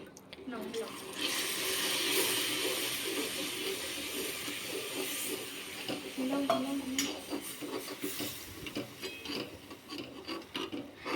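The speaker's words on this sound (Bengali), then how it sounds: "এবার আমরা হচ্ছে এতে ক্যারামেলে মিক্স করতে থাকছি" Amul milk stirred with caramel in a pan makes a continuous scraping, rubbing swirl, close up and steady, easing into irregular scrapes.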